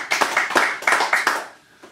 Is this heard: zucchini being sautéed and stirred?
no